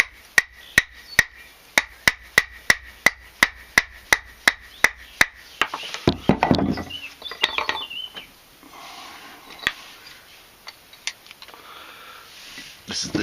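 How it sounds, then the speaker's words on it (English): A Gransfors Bruks chisel-grind belt axe strikes the wooden handle of a Mora knife, about fifteen sharp, evenly spaced knocks, then scattered splintering cracks and rubbing of wood, close and loud. "what we're going to do is obviously smash the handle off, being as careful as we can not to do ourselves or our tools any damage."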